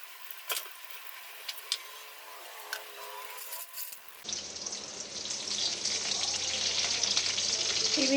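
Large-cut onion frying in a pan for a Chinese-style soya chunks curry, a steady bright sizzle that starts abruptly after a few quiet clinks and grows denser and louder toward the end.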